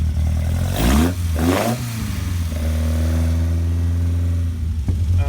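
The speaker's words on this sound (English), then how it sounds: "I think you could probably hear the sound of the Weber carburetor intake." Intake of the Weber carburetor on a 1968 Morgan Plus 4 engine: a deep, throbbing engine note with two quick revs that rise and fall, then a steady low idle-like drone, loud and close, with no talking.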